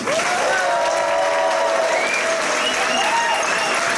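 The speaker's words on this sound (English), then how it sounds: "please give a warm round of applause" Gala audience in Orlando applauding steadily and warmly, dense sustained clapping with light cheers and a voice calling out over it.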